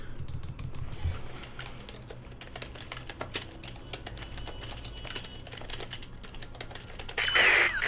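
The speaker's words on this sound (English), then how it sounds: "As you can see, when I'm typing really fast," Fast, close typing on a computer keyboard during a Battle of Empires strategy game, with a dense, continuous rattle of keystrokes and occasional louder clacks.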